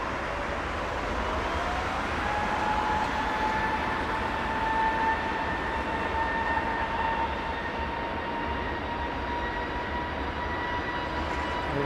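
Aircraft passing at London Heathrow airport, a steady loud roar with a slowly shifting whine, sustained throughout with no pauses and no voices.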